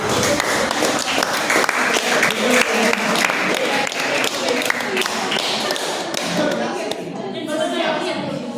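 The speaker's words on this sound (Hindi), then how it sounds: "एक बार जोरदार तालियों के साथ पावन मैडम के लिए स्वागत किया जाए" An audience at a school farewell for a tenth-grade class claps in dense, sustained applause, close and lively, tapering off slightly toward the end with a voice present.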